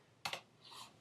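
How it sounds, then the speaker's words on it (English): A single computer keyboard key press, the return key, lands as a sharp close click followed by a softer second tap, then a faint rustle fades out; quiet indoor desk setting with no talking. "then you can hit return on your keyboard to lock it in"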